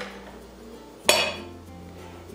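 A toy cooking pot lid clinks once, sharp and close, against a quiet, humming background, with a fainter metallic tap at the very end.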